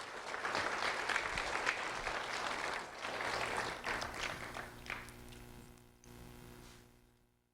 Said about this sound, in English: A round of applause for Tyler Line, please